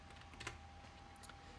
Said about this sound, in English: I'll go ahead and type test.